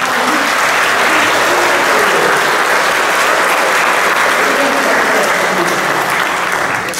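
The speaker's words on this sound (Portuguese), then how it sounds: "tem uma salva de palmas" Sustained applause from a church congregation fills the space, steady and dense throughout without a break.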